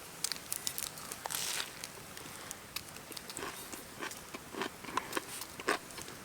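Crunchy bites into burnt, crispy bacon at an outdoor backpacking camp meal, a series of sharp crackling crunches and crinkles spread across several seconds, close to the mic with no talking.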